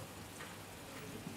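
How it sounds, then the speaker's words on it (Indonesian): Rain falls steadily during an indoor religious study session, a faint, even patter on surfaces with a few soft drops and no speech. "Ini hujan, ya hujan rahmat."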